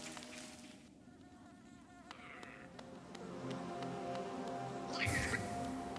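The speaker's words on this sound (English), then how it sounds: "That bee's attacking me." An insect-like bee enemy buzzing in the game Hollow Knight, a continuous droning hum that swells and fades over several seconds amid game sound effects.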